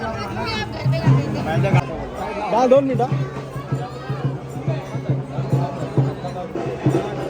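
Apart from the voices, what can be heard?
crowd chatter at a busy shop during Ganpati festival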